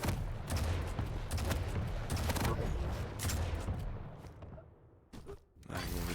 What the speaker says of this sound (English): Landing all his rockets, doing a fair bit of damage.